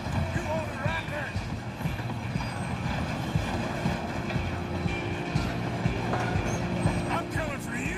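A train runs along rails in the Western video game Red Dead Redemption 2, a continuous rumbling clatter throughout with indistinct voices mixed in.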